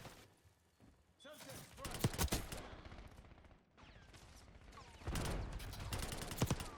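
Gunfire in Black Ops 6 crackles in bursts of rapid automatic shots, clustered early and again near the end, loud and close with game noise between.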